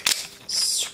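Screw being tightened on a Joby GripTight GorillaPod stand, heard as a short creaky ratcheting twist, a brief click followed by a longer squeaky turning sound, close up with no talking.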